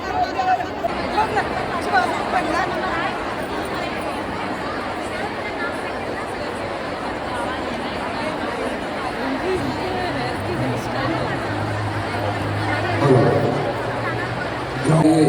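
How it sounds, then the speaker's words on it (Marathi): A large indoor crowd of women at a Makar Sankranti gathering chatters in a dense, steady babble of overlapping voices, loud and close throughout with no single voice standing out. "खूपच जास्त अशी गर्दी आहे आणि कमसे कम हजार तरी लेडीज असणारच"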